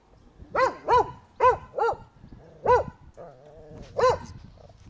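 A dog named Bobik barks outdoors in a run of about seven loud, close, separate barks with short pauses and a low growl between them.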